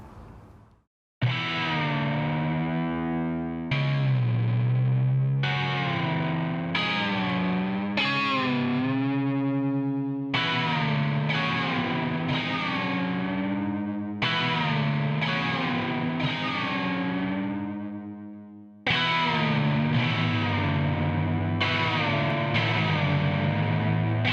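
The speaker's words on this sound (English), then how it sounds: "the core sound of this library is that pitch gliding, that glide guitar" A distorted, shoegaze-style glide guitar sample library plays a power chord in repeated strummed bursts, each one bending and sliding in pitch, thick and effects-laden with no voices.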